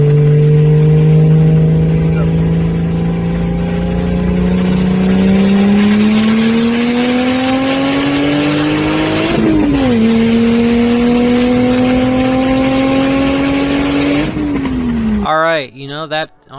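A loud Toyota 2JZ engine swapped into a Toyota 4Runner revs steadily upward, its pitch climbing in long pulls with brief drops between, ending in a quick burst of sputtering.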